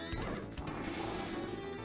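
Dense, busy arcade-style electronic effects from a pinball video game, with layered tones and clattering hits, steady and loud throughout with no pauses.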